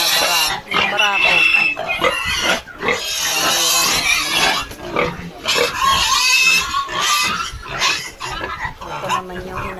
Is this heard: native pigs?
yes